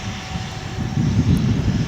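An airliner's engines rumble and roar steadily at DFW International Airport near runway 18 left, a loud, continuous drone that swells slightly as it builds power.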